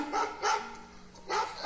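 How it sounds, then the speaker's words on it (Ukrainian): Dog barking three times, moderately close but not loud, with short gaps between barks and a faint whimper-like tone in between. "Так, це собака."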